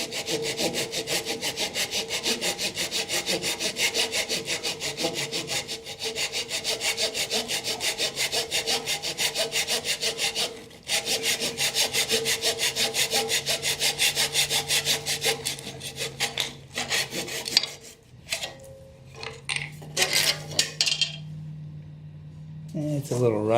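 A hand saw cutting a half-inch square walnut tray rail at 45 degrees in a mitre box: a fast, even back-and-forth rasp of steady strokes, close and loud, easing into slower, broken strokes as the cut finishes.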